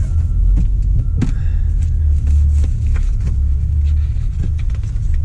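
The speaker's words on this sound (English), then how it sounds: "Truck is running good." A truck engine idles and rumbles steadily and close, a low continuous drone with faint rattles and no speech over it.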